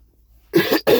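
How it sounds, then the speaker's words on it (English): Two close, hoarse coughs in quick succession after a second of near silence, the first longer and the second short and sharp. "I got a cough, get choked up."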